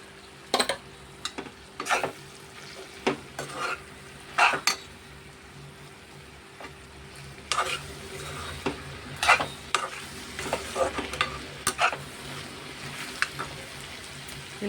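Potatoes seasoned with chili powder and salt fry softly in a pan over low heat, with a quiet continuous sizzle broken by repeated scraping stirs and spoon clinks on the pan.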